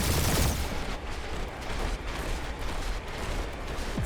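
Spaceship dogfight in Marvel's Guardians of the Galaxy: loud, sustained blasts of rapid energy gunfire with booming impacts, dense and continuous for several seconds with no talking.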